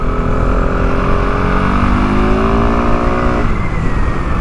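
A KTM 690 Enduro R single-cylinder motorcycle revs hard while riding on a mountain track, its loud close engine note climbing steadily in pitch before abruptly dropping off near the end, over constant wind roar.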